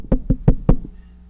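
Four sharp knocks on a door, rapped by a storyteller imitating the sound, close and evenly spaced, followed by a quiet pause.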